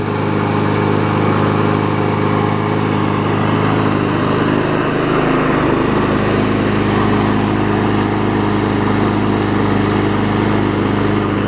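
A Murray 4hp lawn mower engine runs continuously at a steady, throttled-down speed, loud and close, with a constant droning hum and no pauses.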